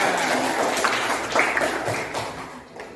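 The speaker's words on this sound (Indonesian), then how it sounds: "Tepuk tangan." Schoolchildren clap together in a classroom, a short, dense burst of hand claps that tails off after a few seconds.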